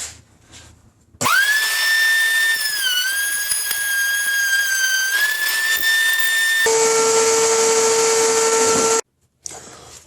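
A router cuts a round tenon in wood, a loud, steady high whine with harmonics that starts abruptly, dips briefly in pitch under load, then changes to a harsher tone before cutting off near the end. No one speaks.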